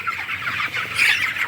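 Broiler chickens, about three weeks old and bunched together in a cold-season shed, cluck and murmur continuously at close range, with the chatter swelling slightly toward the end and no talking.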